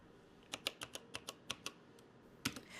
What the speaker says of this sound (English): To gain full administrative access, I enter enable mode and type in my password.